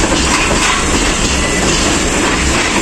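A crowded Pakistan Railways rail car travelling between Gujranwala and Rawalpindi, a loud steady rumble of wheels and carriage noise heard from inside with faint rhythmic clacking.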